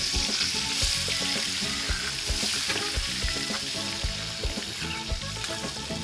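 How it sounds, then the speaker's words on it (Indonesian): Spice paste sautéing in a pan, a steady loud sizzle of frying with rhythmic stirring and scraping knocks throughout, close by. "Ini loh, bumbunya udah siap. Langsung aja kita tumis."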